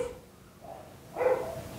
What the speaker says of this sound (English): the neighborhood dogs are going completely crazy